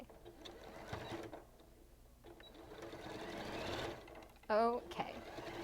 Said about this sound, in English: when you're sewing these together, you kind of want to match your seams